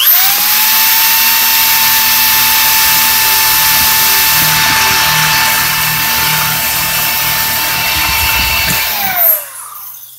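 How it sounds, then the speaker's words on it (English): Power drill boring out the through bolts of a Proline pool pump, a loud steady high-pitched whine held for about nine seconds before spinning down and stopping. "And just keep drilling it."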